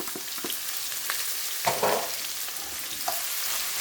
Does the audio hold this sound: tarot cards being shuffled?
no